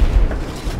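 A deep explosion booms as a target is destroyed in a Battlefield 3 campaign tank battle: one short, heavy, low rumble, close and loud.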